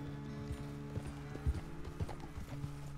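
A horse's hooves clip-clop in Red Dead Redemption 2 on PS5, with steady, moderately close footfalls in a walking rhythm over a low humming game soundtrack, no voices.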